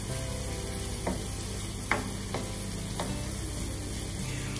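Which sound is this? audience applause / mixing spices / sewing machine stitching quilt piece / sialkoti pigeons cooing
mixing spices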